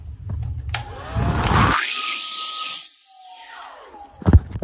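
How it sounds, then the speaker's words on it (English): A handheld blow dryer runs in a condo bathroom at a Fort Walton Beach, Florida resort, giving a loud, steady airy whoosh for about two seconds that changes pitch briefly and then winds down, with a few clunks at the end. "Here's another blow dryer, just for the heck of it. We'll demonstrate it."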